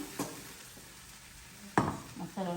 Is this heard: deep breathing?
no